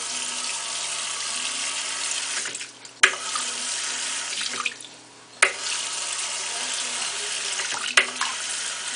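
Water streams steadily from a tap fitted with a one-touch faucet aerator, the flow cutting off twice and then resuming with a sharp splash each time.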